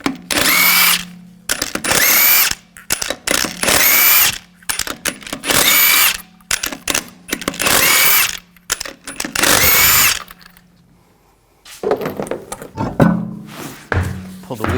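An impact power tool with a 22mm socket spins lug nuts off a 2014-2018 GMC Sierra 1500 wheel, several loud whirring bursts one after another with short pauses between, then a rougher final burst.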